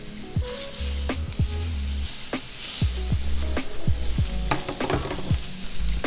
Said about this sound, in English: Let's add our seasoned pieces of steak to our medium heat flat top grill.